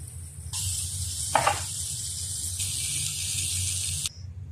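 Hilsa fish dropped into a hot pan of oil with ginger, onion, turmeric, chili and mixed spices bursts into a loud, close sizzling hiss that holds steady for several seconds, then cuts off abruptly.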